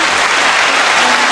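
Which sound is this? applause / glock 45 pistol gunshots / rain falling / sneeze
applause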